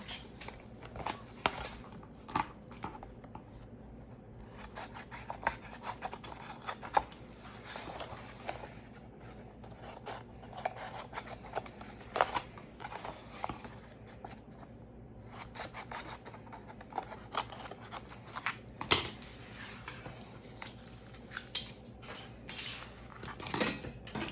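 Scissors snip through chipboard while a journaling mini album is assembled at a craft table, a run of short, close crisp cuts and rustles spread unevenly over the stretch, with no talk.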